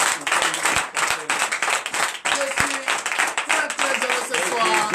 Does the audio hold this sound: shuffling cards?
no